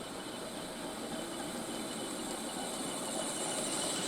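A Hornby 9F Black Prince 4mm-scale model locomotive with a Portescap motor runs smoothly with a slight whine. A soft, steady whirring hum continues unbroken throughout.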